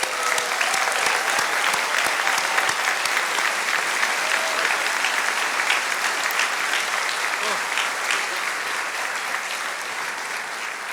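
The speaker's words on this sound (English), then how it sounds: "Let's give our students one final round of applause." An audience applauds medical students at the Oakland University William Beaumont School of Medicine white coat ceremony, a dense, sustained wave of clapping that holds steady for about eleven seconds before easing slightly, with a few voices mixed in.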